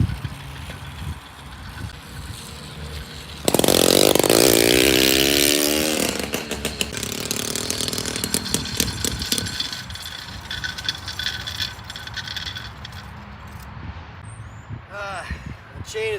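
80cc motor mounted on a 20-inch BMX bike starts with a sudden loud rasping two-stroke roar that rises in pitch, then settles into a rough running buzz while people talk nearby.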